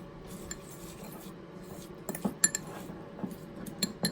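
A utensil stirs and scrapes apple crisp topping, cinnamon included, in a bowl, giving soft close clinks and rubs that grow busier and sharper toward the end, with no voices.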